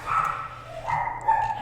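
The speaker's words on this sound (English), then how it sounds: "Sorry about my dog being off tonight." A pet dog at home gives short whiny barks and yips, two or three close, tonal bursts that rise and fall in pitch, heard alone without talk.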